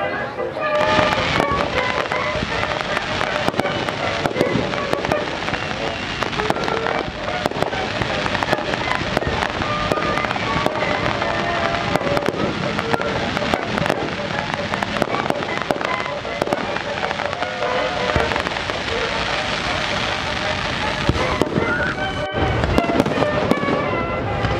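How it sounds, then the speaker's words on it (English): Fireworks go off all along a gorge in a dense, continuous stream of cracks and pops with wind noise on the microphone, while people talk faintly underneath. "there's fireworks going off"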